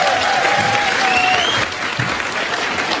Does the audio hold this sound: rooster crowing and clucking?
no